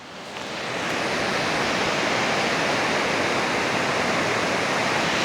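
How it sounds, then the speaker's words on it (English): A waterfall on Spring Creek, feeding toward Reedy Creek and Woolshed Falls near Beechworth, Victoria, roars as a constant, dense rush of falling water that swells in over the first second and holds steady with no voices. "Just overlooking a waterfall here on Spring Creek."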